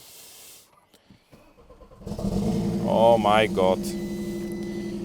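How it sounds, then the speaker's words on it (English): An Audi RS3 engine cranks and catches after a quiet start, then idles roughly and unevenly with a low, shaky rumble, while a voice exclaims over it. "So let's start the engine up so you have an idea how it sounds like."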